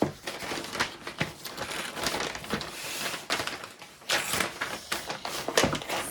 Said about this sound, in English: they arrive in a clear plastic bag that's really thick and robust, so it protects it